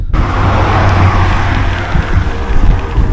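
Road traffic with cars passing on a highway on July 3rd, heard as a loud, continuous rumble and tire roar with a passing swell near the end, no voices.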